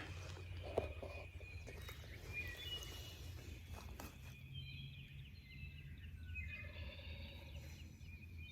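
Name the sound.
wild turkey gobbling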